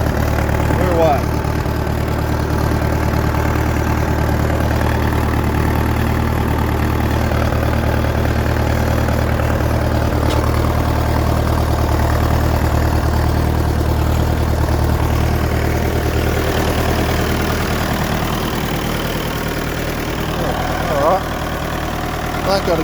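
Fordson Power Major tractor with a reconditioned engine idling just after a cold start, a loud, steady low diesel throb with a regular knocking beat that holds for over twenty seconds.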